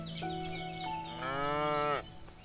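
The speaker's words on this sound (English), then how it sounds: "This is a chonky cow." A cow in the farming video game Everdream Valley gives a single drawn-out moo lasting nearly two seconds over a soft in-game ambient hum, clear and close with no talking.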